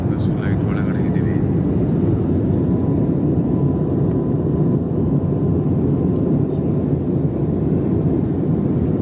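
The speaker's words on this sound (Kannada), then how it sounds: "ಫ್ಲೈಟ್ ಒಳಗಡೆ ಇದ್ದೀವಿ" Steady, loud engine drone fills the cabin of an IndiGo passenger flight, a constant broadband roar with no breaks throughout.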